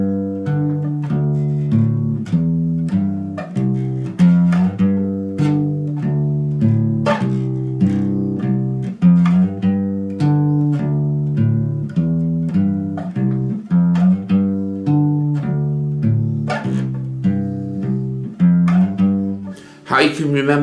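Bass guitar plays a steady root-fifth pattern with clear plucked notes. A strummed accompaniment may sit underneath, and the line runs continuously at a moderate tempo.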